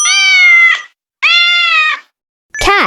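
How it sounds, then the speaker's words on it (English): A cat meows twice, each a long, clear, drawn-out call with a short silence between, then a third meow begins at the end; loud, close and alone with no talking. "Cat."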